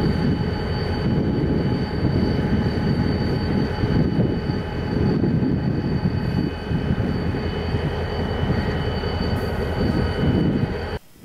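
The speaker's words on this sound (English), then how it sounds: "the 2003 is just another workaday locomotive for the railroad" Reading railroad locomotive 2003 runs in a loud, continuous rumble with a steady droning hum and rattling wheel noise, holding an even level before cutting off abruptly at the end.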